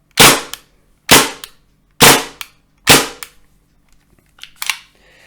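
A KWA MAC 11 airsoft gun with bolt lock fires four sharp, loud single shots about a second apart, each with a quick mechanical clack, followed by a softer pair of clicks.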